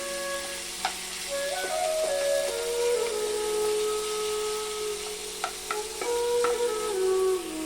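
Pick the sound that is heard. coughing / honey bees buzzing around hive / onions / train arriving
onions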